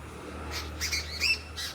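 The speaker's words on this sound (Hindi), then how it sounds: "चिड़िया सबके आवाज सुनियौ" Birds give a few harsh squawks, moderately near, spaced over under two seconds against a quiet outdoor hum.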